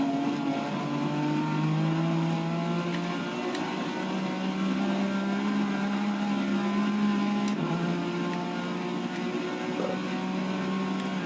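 A 1998 Porsche race car's engine in Forza 6: steady, loud high-revving drone holding a sustained pitch, with a brief shift-like drop and recovery partway through, alone with no talking.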